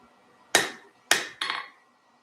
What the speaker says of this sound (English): Maybe it would be easier just with the hammer.